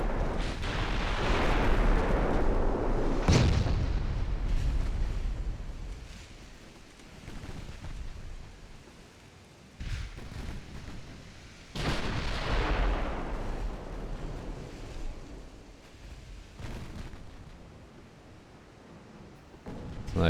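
Heavy naval gunfire and artillery in the Ultimate Admiral Dreadnoughts game: loud booming salvos with long rumbling decay, a sharp crack near the start and several more blasts spread across the stretch.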